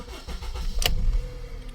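Car engine cranking and catching as the ignition is turned, a low rumbling churn with a sharp click partway through, close and loud, no speech.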